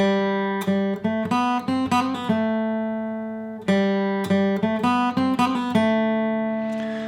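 A flatpicked acoustic guitar plays the seventh measure of the tune Boys of Ballycastle, bright, crisp plucked notes, pausing midway, then continuing with ringing sustained tones at the end.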